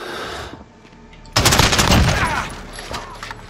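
AK-47 gunfire in Modern Warfare, a loud burst of rapid automatic shots that starts abruptly and rattles on for a couple of seconds before tapering off.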